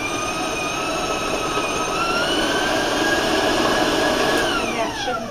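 Electric stand mixer with a paddle attachment combining peanut butter oatmeal cookie dough, a continuous whirring motor drone with a steady high whine, close and unbroken throughout.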